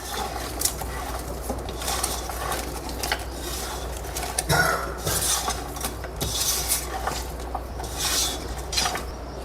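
Biryani ingredients with lemon are stirred and mixed by hand in a metal vessel, giving repeated close scraping and clinking of a utensil against the pot in an irregular rhythm, with no talk.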